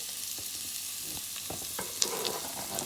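Garlic and onion hitting a pan of smoked fish, a bright continuous sizzle with scattered stirring clicks and one sharp scrape partway through.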